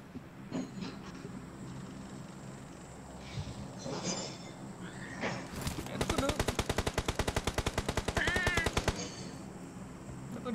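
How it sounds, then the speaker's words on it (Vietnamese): Sporadic shots in PUBG Mobile give way to a long, rapid, evenly spaced burst of automatic fire lasting a few seconds, with a player's voice talking faintly around it. "có thằng trên đầu nó vẫn đang bắn này"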